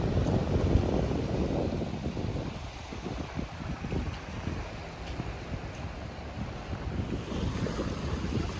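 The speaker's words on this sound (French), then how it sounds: "Mais un petit vent." Gusty wind buffets the microphone at a camping seashore in Val-Comeau, New Brunswick, with surf washing underneath in a steady, moderately loud roar and no voices.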